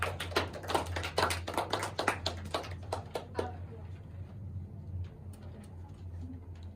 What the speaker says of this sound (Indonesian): Tepuk tangan untuk yang sudah berani untuk maju.